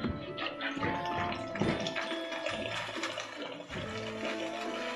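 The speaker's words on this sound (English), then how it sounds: "So give your carboy a bit of a shake, a little bit of agitation." Fermenting mead sloshes and churns inside a glass carboy as it is shaken to release gas. Bursts of watery agitation come close and continuous, with foamy fizzing between the swirls.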